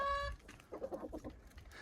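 Backyard chickens cluck close by, a brief tonal call followed by a run of soft, rapid clucks.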